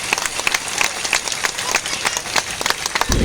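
Applause from a large crowd at a final assembly-election campaign rally in Maharashtra, dense scattered clapping running steadily throughout, with a louder low burst right at the end.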